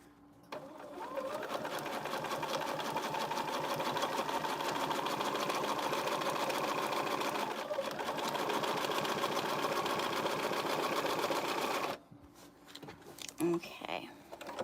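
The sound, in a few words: sewing machine top stitching a zipper pencil case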